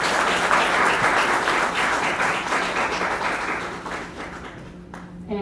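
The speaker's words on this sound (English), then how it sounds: "let's give another round of applause" Audience applause follows a research presentation, a close, full burst of clapping that gradually fades and thins toward the end.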